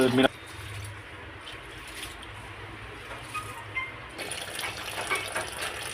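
Rice for dosa batter is rinsed in water, with soft sloshing and trickling heard close under a voice talking throughout.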